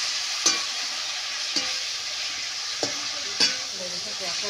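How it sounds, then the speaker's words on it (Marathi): Fresh val bean pods fry in a kadhai over a high flame, giving a steady bright sizzle broken by four distinct scraping stirs of a ladle against the pan. "व्यवस्थितपणे त्या सर्व हलवून घ्यायचे."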